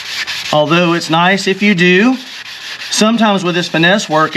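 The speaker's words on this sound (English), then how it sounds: "That is probably one of the things I would have to warn people about, is sanding too aggressively." Hand sanding of gelcoat damage on a boat hull, a steady close rubbing scrape that runs under someone talking throughout.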